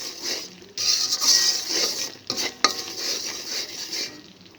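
Jaggery melts in a pan while a utensil stirs it, giving irregular scraping and clinking strokes against the metal with short pauses between them.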